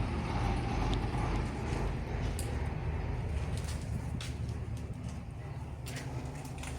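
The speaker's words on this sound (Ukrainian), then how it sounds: "тут дуже часто проїжджають всілякі вантажівки" Low, steady rumble of a heavy vehicle rolling past nearby, with faint bird calls and a few light knocks over the traffic noise.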